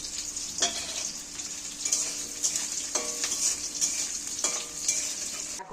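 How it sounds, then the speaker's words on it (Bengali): Steady crackling sizzle of onions frying in hot oil, with a utensil scraping and stirring the pan every second or so. "এইবার কাটা পেঁয়াজগুলো তেলের মধ্যে তুলে দিচ্ছি"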